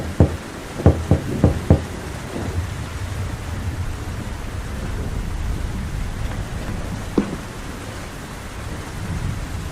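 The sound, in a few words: knocking on the door of a bird's nest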